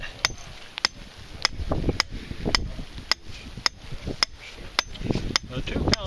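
Sharp, regular impacts repeat about once every half second, a steady pounding of a hammer driving a metal trap stake into rocky ground, with a rumble of movement underneath.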